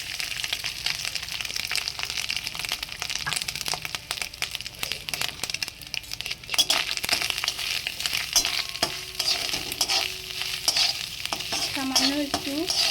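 Grated coconut fries in hot oil in a pan while being stirred, for a vegetarian taro-leaf (kochur shak) dish. There is a continuous close sizzle, broken by frequent scraping stirs, with no one speaking.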